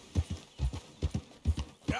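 Horse hooves clip-clopping in Red Dead Redemption 2, a quick, close, steady beat of about nine hoof falls in two seconds, alone with no talk.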